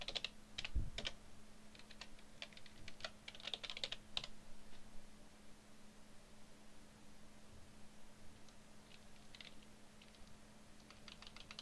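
Python code being typed on a computer keyboard makes quick bursts of faint key clicks, dense at first, then sparser, over a low steady hum.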